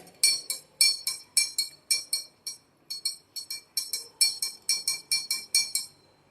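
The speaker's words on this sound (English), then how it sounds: "Pour 1 teaspoonful of salt in a glass of water. Stir it very well." A metal spoon clinks rapidly and steadily against a glass while salt is stirred into water, about twenty bright taps in quick rhythmic runs with short pauses, close and clear with no talking.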